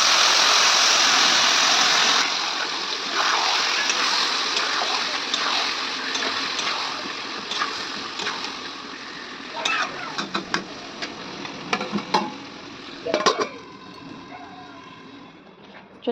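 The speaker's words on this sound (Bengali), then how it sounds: "এবার চিকেনটা দিয়ে দেবো। পেঁয়াজটা ভাজা হয়ে গেছে।" Chicken pieces frying in a pan with already-fried onions, a steady loud sizzle with stirring and scraping clatters toward the end.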